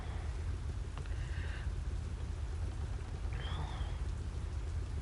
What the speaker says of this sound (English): It just started raining for me, but it's like everywhere's mud.